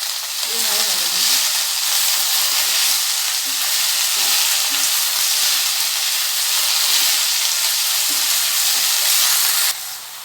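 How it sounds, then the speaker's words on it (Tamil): Mint leaves sautéing in a little oil in a pan for chutney, with a steady bright sizzle and hiss that runs close and continuous throughout, and faint stirring scrapes now and then. "புதினா போட்டு கொஞ்சமாக எண்ணெய் விட்டு புதினாவை வதக்கணும்."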